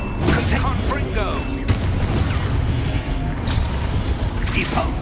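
In the video game Hogwarts Legacy, a Confringo explosive spell fires amid steady combat noise, with booming bursts and crackling impacts layered over a dense, loud background.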